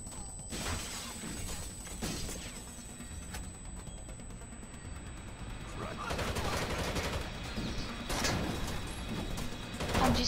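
Gunfire in the video game Rainbow Six Vegas: bursts of automatic rifle fire and scattered shots crackle over a dense tactical soundscape, growing heavier toward the end, with faint voices in the mix.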